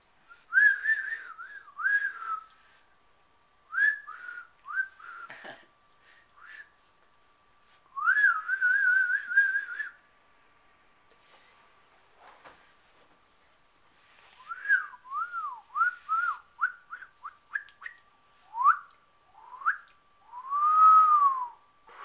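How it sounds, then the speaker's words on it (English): Bright warbling whistles in short bursts and rising-falling phrases, with pauses between, ending on a long sustained note; fairly close and clear. "You got a whistle."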